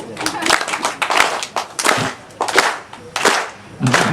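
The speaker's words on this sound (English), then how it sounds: "I'm clapping on the off beat" A singer's audience at a strawberry festival claps in sharp, irregular bursts on the off beat. The claps are close and loud, with short gaps between the groups.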